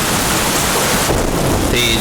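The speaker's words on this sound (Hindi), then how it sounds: "तेज बारिश" Heavy rain pours steadily with a rumble of thunder, loud and close, filling the whole short stretch.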